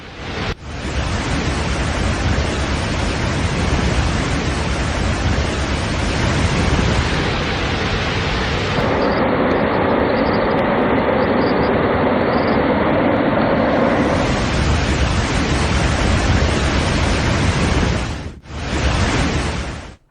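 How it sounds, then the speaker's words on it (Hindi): Strong floodwater current in Vasai, near Mumbai, sweeps a vehicle away: a loud, steady roar of rushing water fills the whole stretch, thinning briefly in the middle and dipping for a moment near the end. "मुंबई से सटे वसई में तो पानी की तेज धार में गाड़ी ही बहने लगी।"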